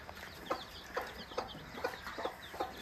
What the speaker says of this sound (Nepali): हाम्रो घरको कुखुरा